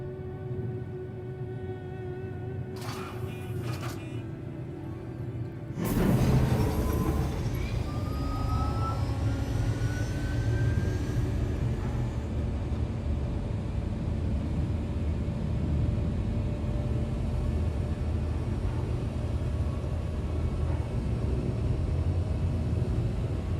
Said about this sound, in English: The shuttle is preparing to depart. Please clear the hatch.